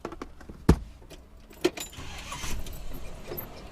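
A car engine with a freshly cleaned carburettor is started: two sharp clicks come first, then a low rumble rises and keeps running, fairly faint, with no voices.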